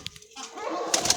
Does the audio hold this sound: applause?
no